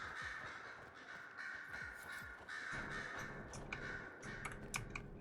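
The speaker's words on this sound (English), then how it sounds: "Fucking birds, dude." Birds caw repeatedly in Dragon Age: Inquisition, their harsh calls set against faint game ambience, with soft clicking sounds at a low overall level and no speech.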